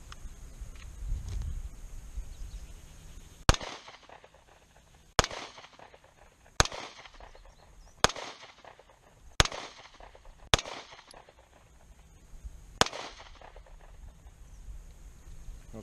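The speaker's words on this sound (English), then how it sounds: "Okay, so that's all 8 shots." Shots from a Hi-Point C-9 9mm Luger pistol fired outdoors in hot weather: a series of sharp, loud reports spaced one to two seconds apart, each trailing off in a brief echo over quiet background.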